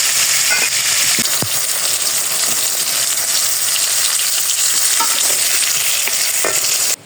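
Shukto vegetables fry in oil with a loud, steady sizzle close at hand, broken by a few sharp clinks and pops, before cutting off abruptly at the end. No one talks.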